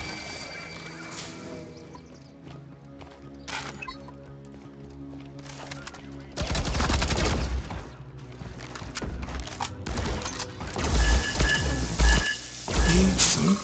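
A deployed turret fires in a Firefall sci-fi shooter during free-roam play, bursts of rapid sharp cracks swelling loud and dense in the second half, mixed with busy game noise and scattered clatter.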